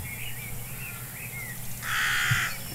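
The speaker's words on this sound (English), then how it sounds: "There's a lot of birds right here." Crows cawing outdoors in an open area, several harsh calls spread across the clip, moderately distant over steady background noise, with one louder burst near the end.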